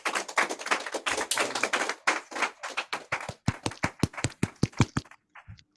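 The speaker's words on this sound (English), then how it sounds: "People are clapping for you." Audience applause after a talk and Q&A session: dense, steady clapping from many hands for a few seconds, then thinning out into a handful of scattered, sharper individual claps before fading to near silence.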